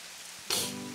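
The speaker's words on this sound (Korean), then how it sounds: "갑자기 소나기가 쏟아지기 시작했죠." A sudden downpour of rain used as a sound effect in a Korean radio comedy drama bursts in after a quiet moment, becoming a loud, steady wash of close rain hiss that continues to the end.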